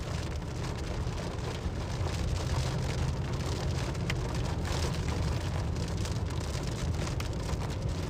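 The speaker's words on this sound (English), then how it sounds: "We did get some big hail." Big hail falls during a Nebraska storm, a dense, steady pelting roar that continues without pause and without any voices.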